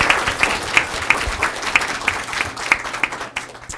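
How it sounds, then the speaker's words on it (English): Applause at a board presentation on student innovation: a lively burst of clapping from a room of people, with several crisp, close claps standing out above the dense patter before it thins toward the end. "Can we give them a round of applause?"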